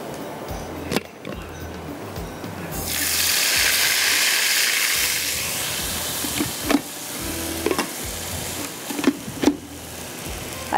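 Cumin and a ground yogurt, tomato and onion masala frying in a pot for mutton dum gosht, a loud burst of hissing sizzle rising midway and fading, with clicks and knocks of a utensil around it, no voices.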